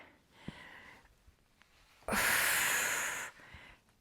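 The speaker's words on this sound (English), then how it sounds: "And exhale. Inhale." A forceful exhale during a leg press in a full-body strength workout, a loud breathy rush of about a second, set apart from a few faint softer breaths around it.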